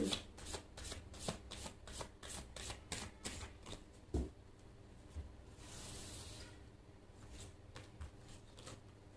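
Gypsy fortune-telling cards are shuffled by hand in a rapid run of crisp riffling flicks, followed by a softer sliding rustle and a few scattered taps, all close and without speech.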